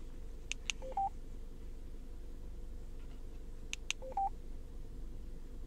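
Keypad tones from a Yaesu FTM-100DR radio as a phone number is entered, two short clusters of quick beeps about three seconds apart over a steady low hum, faint and close with no talking.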